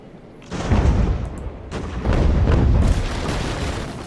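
Sailing ship cannons firing in the naval game Ultimate Admiral: Age of Sail, two deep booming volleys about a second and a half apart, each followed by a long rumbling roll.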